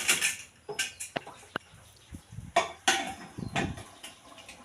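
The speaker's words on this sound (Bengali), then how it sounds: "এখন কুকারের ঢাকনাটা লাগিয়ে দিলাম।" A metal pressure cooker lid is fitted on in a home kitchen while cooking mung dal, a series of sharp clinks, scrapes and clatters in an irregular rhythm, close and alone.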